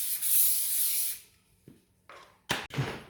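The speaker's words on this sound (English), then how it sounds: "I'm just going to add some spray into this pie tin here." A close, hissing burst of cooking spray into a 20 cm pie tin lasts about a second, followed by a few short rustling and scraping noises.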